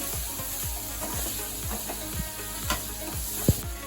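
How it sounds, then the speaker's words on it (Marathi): Spices sizzling in a pan for masala broccoli, a soft continuous fry broken by repeated scraping stir strokes and one sharp clink near the end. "इथे मी सगळे हे मसाले आहेत तुम्हाला दाखवले होते ते सगळे ऍड करते. मसाले चांगले फ्राय करून घेऊया."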